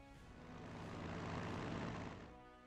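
Japanese warplanes drone through a Pacific battle in the strategy game Strategic Mind: The Pacific, a steady propeller-engine roar that swells to a peak midway and fades again, with no talk.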